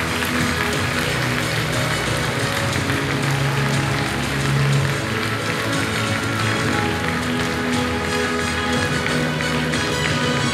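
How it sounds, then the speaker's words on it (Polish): Audience applause at a gala, a thick, loud, unbroken wall of clapping from a large crowd, with steady background music and a low murmur running underneath throughout. "Brawa dla ciebie, Janteczku."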